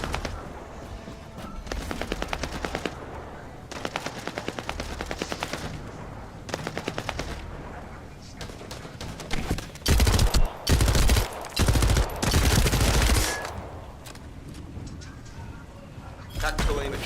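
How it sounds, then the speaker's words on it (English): Submachine gun fire in The First Descendant video game comes in rapid bursts, some short and some long, loud and close, with a player's voice talking over parts of it. "Yeah, submachine gun's nuts now."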